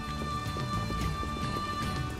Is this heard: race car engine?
no